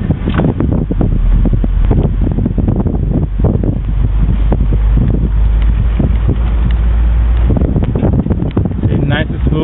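A 1974 Cadillac Eldorado convertible drives and accelerates smoothly in heavy wind, a low steady engine rumble largely buried under loud, constant wind buffeting on the microphone.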